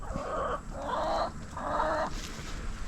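Chickens clucking in three drawn-out bursts, fairly close, with quiet outdoor background and no one speaking.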